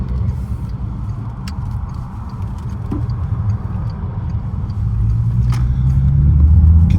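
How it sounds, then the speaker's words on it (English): A 2016 GTC car drives along and accelerates smoothly, with a steady low engine and road rumble that swells louder toward the end, heard from inside the cabin with faint ticking. "You can see the acceleration is nice and smooth, the car's not pulling."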